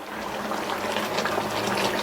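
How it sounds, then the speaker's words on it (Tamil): Water is poured onto jaggery in a pan while making payasam, giving a steady, close splashing and gushing pour that lasts the whole moment without talk. "இந்த வெள்ளம்லாம் முங்குற அளவுக்கு இந்த மாதிரி லைட்டா தண்ணி சேர்த்துட்டு இந்த வெள்ளத்தை நல்லா கரைய விட்டுறலாம்"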